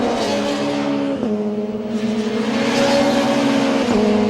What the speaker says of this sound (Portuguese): esse motor turbo diesel ronca uma barbaridade em linha reta